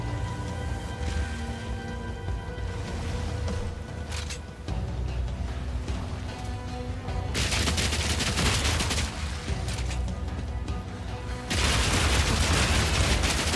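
Bouncy bullet skill shots fire in Path of Exile 2 as a dense, loud stream of rapid gunfire-like cracks and booms. They build into heavier overlapping volleys in the second half, with no voices.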